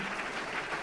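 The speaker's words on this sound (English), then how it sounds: "That round of applause is for you." An audience at a public forum on unconditional basic income applauds in a steady, dense round of clapping that fills the whole short moment, with no voices on top.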